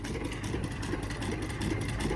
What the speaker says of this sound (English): Pretty smooth, that, isn't it, for a single cylinder?